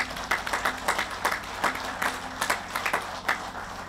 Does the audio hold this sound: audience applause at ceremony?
yes